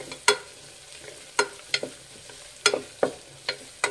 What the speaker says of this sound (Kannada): ಈರುಳ್ಳಿ ಮೆತ್ತಗಾಗೋವರೆಗೂ ಫ್ರೈ ಮಾಡಬೇಕಾಗುತ್ತೆ.